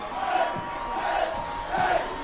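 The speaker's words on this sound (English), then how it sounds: "Fightin' Phil's crowd getting rowdy here early on in this game" Rowdy crowd at a Reading Fightin Phils minor league baseball game against the Hartford Yard Goats, a continuous roar of cheering and shouting from a stadium, with swells of chanting rising and falling in waves.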